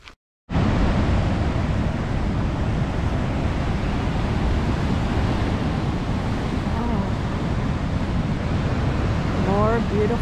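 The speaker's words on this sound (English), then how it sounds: "I love seeing them splash against the rocks." Ocean surf breaking and splashing against rocks below coastal bluffs at Montana de Oro, a steady, loud, broad roar of waves with gusty wind buffeting the microphone, starting abruptly after a brief silence.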